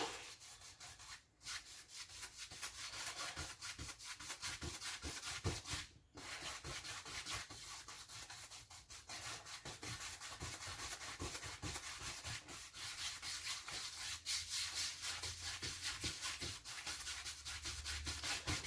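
Continuous dry rubbing and scrubbing of a paintbrush working paint across canvas, steady and close with brief pauses, in crisscross blending strokes for a foggy-tree painting.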